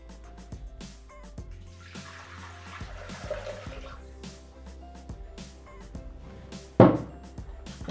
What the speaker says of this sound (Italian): Adesso versiamo all'interno del boccale l'acqua.